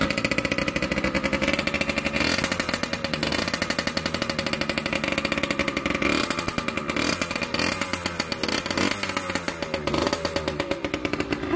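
A 1974 Yamaha YZ80 two-stroke engine runs loud and close, a raspy, buzzing drone that wavers and surges continuously throughout, with no talking.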